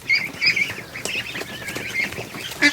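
Geese and ducks rushing into a barn give a lively mix of honks and quacks at close range, with shuffling and wing flaps in the background and a loud honk at the end.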